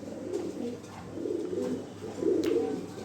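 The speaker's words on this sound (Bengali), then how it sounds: "এই যে এইখানে এক পেয়ার কবুতর আছে যেটা নাকি সচরাচর পাওয়া যায় না, সাদা লাহোরি" A pair of white Lahori pigeons coo close by, a steady run of low, rolling, throaty coos that swells and fades over a few seconds.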